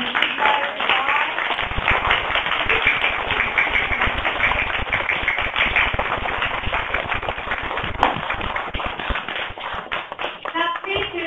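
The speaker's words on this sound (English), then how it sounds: "Girls and boys, can you please give Aaron a big clap from where you are" A crowd of schoolchildren claps together for author Aaron Blabey, a dense, continuous patter of applause lasting several seconds, with voices and cheering mixed in.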